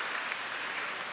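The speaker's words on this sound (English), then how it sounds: "clap for them again" An audience applauds at a sustainability conference, a short steady burst of dense clapping from a full room.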